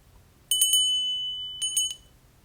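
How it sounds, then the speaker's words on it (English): A small metal altar bell rings twice, each a bright, clear ding with a quick double strike. The first tone rings on and fades slowly before the second strike in an otherwise quiet room. "I got a little bell."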